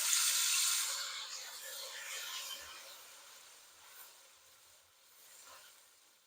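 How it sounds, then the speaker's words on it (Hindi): Half a glass of water poured into a hot pan makes a loud hissing rush at first, then fades into a softer, uneven sizzle and bubbling that drops away over several seconds. "आधा गिलास में इसमें पानी का डाल लेंगे।"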